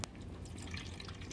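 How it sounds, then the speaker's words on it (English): Peri-Pro solution emptied from its bottle into a container of fixer, a soft continuous liquid pour with a small splash at the start, close and fairly quiet. "basically all you do is empty the total contents into your fixer."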